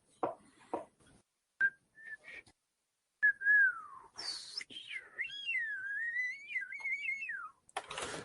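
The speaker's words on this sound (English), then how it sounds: "Semi-pro whistling and humming." A person whistles, beginning with a few short clipped notes and then moving into a long, sliding melodic phrase. The whistling is clear and close, with brief bursts of noise between phrases.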